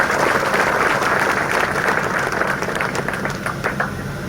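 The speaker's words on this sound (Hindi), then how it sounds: "जोरदार ताली बजानी चाहिए" A large crowd at a village statue unveiling ceremony for a martyred soldier in Jakhal claps loudly, a dense burst of applause that holds steady, then thins toward the end.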